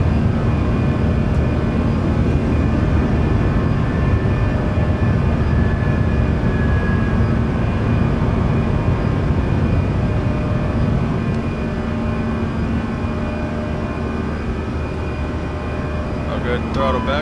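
Airbus A320 on its takeoff roll and climb-out, a steady loud engine roar with a persistent whine running throughout, gear coming up, with pilots talking briefly over the cockpit noise.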